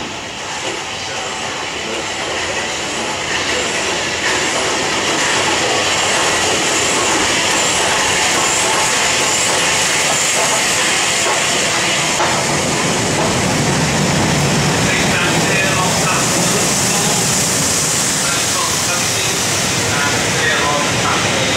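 A train passes through a station platform on a main line, with a loud, steady rumble and rail noise swelling over the full length of the clip, close by, alongside station announcements.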